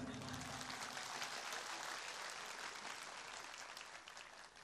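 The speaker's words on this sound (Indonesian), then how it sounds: "Kurang keras tepuk tangannya." Audience of young people at an Islamic gathering applauding, a dense, hissy wash of clapping that sounds somewhat distant and faint, tapering off slightly at the end.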